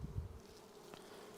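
Honey bees at an open hive in the Haselor apiary give off a close, steady buzzing drone, with a brief louder rumble at the start and no talking.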